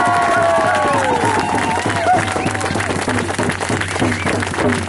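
A crowd applauds at an outdoor stop of a march for Mother Earth in Québec, dense clapping with scattered cheers holding steady before thinning slightly toward the end.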